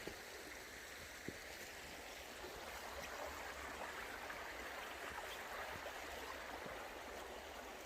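A river flows through Ecclesall Woods in Sheffield with a steady, broadband rush of moving water close by, continuous and unbroken throughout, with no voices over it.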